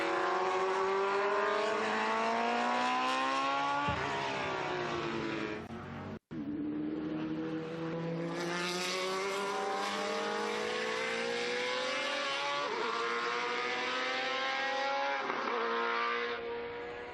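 Historic Spice sports prototype race car at the Estoril Classics circuit, engine howling loudly as it accelerates through gears with several rising pitch sweeps and gear changes, passing close on track.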